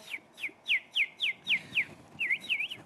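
A person whistles a bird imitation, about ten clear chirping notes in a steady rhythm that end in a few warbling, rising-and-falling calls, close and fairly quiet.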